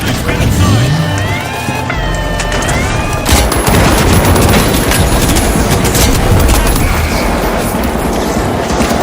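A rocket is fired and explodes in the video game The Finals amid a loud, busy fight, with bursts of gunfire, booms and whooshing effects, and an announcer voice talking over the chaotic mix.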